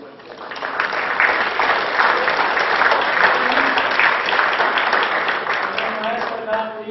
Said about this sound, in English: I'd like to give a round of applause for them.